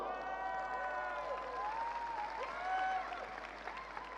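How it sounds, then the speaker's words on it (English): Audience applause and some cheering at a large cryptocurrency event in Da Nang, Vietnam, a steady wash of clapping from a big crowd throughout. "Applause!"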